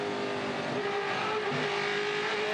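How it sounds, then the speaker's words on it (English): 2015 Touring Car Masters race car at Adelaide held on the rev limiter in fourth gear, a steady, dense engine roar that stays constant throughout with a faint buzzing tone. "On the rev limiter down here in fourth."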